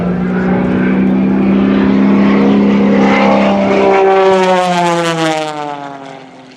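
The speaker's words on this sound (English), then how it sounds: "Airplane flying sideways." Gary Ward's MX-2 aerobatic airplane roars past at an air show, its propeller engine droning steadily, then sweeping downward in pitch as it passes and fading away into the distance.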